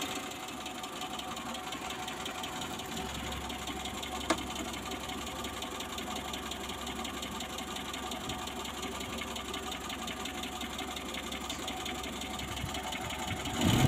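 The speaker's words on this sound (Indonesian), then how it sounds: "Jadi suaranya kasar ini kalau setelah digas lur ya, baru muncul. Kalau menurut saya ini memang klepnya longgar lur" A Suzuki Carry Extra engine runs rough with loose valves, giving a steady close-up ticking clatter over a constant mechanical drone that swells slightly at the very end.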